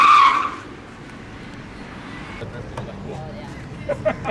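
A Lamborghini Huracan Performante Spyder drifts on a closed lot, a loud burst of tire squeal and engine roar at the start that quickly fades into a low rumble with scattered bumps and distant noise.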